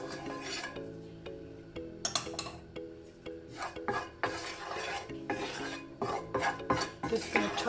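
Cumin seeds are tipped into a hot pan and fried, giving a close sizzle with scraping and stirring against the pan in irregular bursts.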